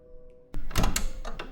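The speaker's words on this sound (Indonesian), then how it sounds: "Aku buka pintu kayu jati yang berat itu." A heavy teak wooden door swings open in an old house, giving a sudden close thunk and creak after near silence, followed by a couple of softer knocks as it settles.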